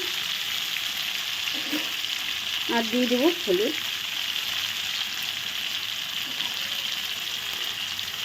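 Chana dal frying and being stirred slowly in a pan, a constant close sizzle with a brief voice speaking over it.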